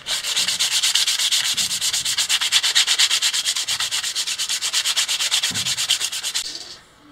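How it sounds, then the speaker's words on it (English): Rapid rhythmic back-and-forth rasping of sandpaper by hand, close and steady for several seconds before stopping abruptly. "Let's just do a little bit of final sanding."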